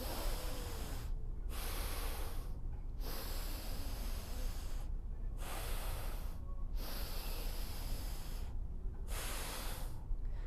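Slow, deep breaths from close by, with long broadband inhales and exhales alternating in a steady rhythm and brief pauses between them, performed as a 360 breathing exercise.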